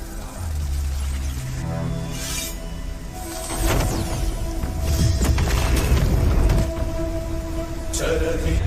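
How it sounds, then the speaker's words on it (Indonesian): A heavy boom with rumbling blast and debris, a dramatic explosion rising midway over a low continuous background. "Veda kemudian menggunakan busur panah itu untuk menyerang Mahabir sehingga menyebabkan ledakan dahsyat"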